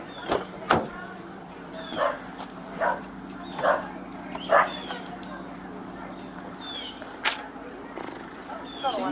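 A dog barks in a series of sharp, separate yelps spaced over several seconds, moderately close, with a steady low hum and background noise underneath.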